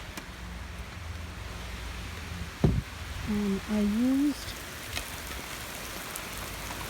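Heavy rain pours down steadily outdoors beside a backyard rabbit enclosure, a constant broadband hiss throughout, with a brief knock and a short stretch of a person talking partway through.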